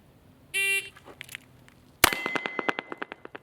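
A single-action six-gun revolver fired cowboy style cracks once, a sharp loud report that rings into a brief echo, followed by a run of fading clicks and taps. A short tone sounds shortly before the shot.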